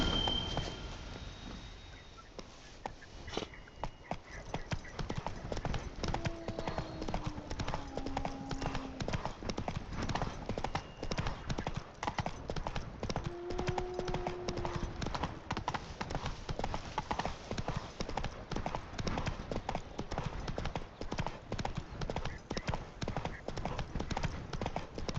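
Roach the horse clip-clops steadily through The Witcher 3, hooves striking in an even walking rhythm throughout, with faint game ambience and a few brief tonal sounds underneath.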